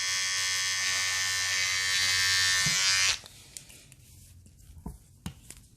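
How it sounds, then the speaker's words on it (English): Electric beard trimmer run along the edge of a comb, a close, steady high buzz for about three seconds that cuts off abruptly, followed by faint handling clicks. "I'm just gonna take my trimmer and run it against the edge of the comb here"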